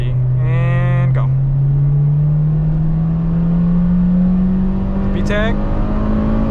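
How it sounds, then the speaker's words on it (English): An Acura RSX accelerating hard in third gear from around 40, the engine note rising steadily and loudly in pitch throughout, with brief bursts of speech near the start and near the end. "So now we're in third. We'll do a third at 40. And go."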